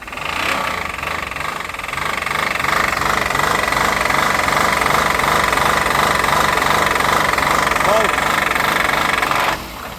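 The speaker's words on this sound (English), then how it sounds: "Rev it up. Redline it!" A car engine is revved hard in neutral and held at high, near-redline revs for about nine seconds, loud and steady, with voices over it before it drops off at the end.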